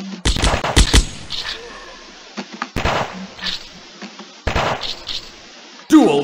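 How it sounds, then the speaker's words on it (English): Chopper gun in a zombie video game firing cover fire: sharp, loud bursts of rapid shots in several separate clusters with quiet gaps between them. "Chopper gun locked and loaded, providing cover fire."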